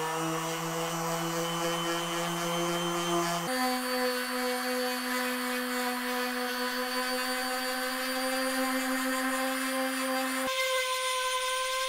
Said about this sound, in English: we'll work on them with finer and finer sandpaper